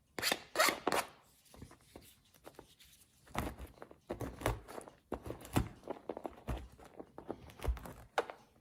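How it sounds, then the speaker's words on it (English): Knife cuts through cookies in chunks on a board for an ice cream cake, a series of close, crisp chops and scraping rasps in irregular bursts with short pauses. "Cut them across in chunks."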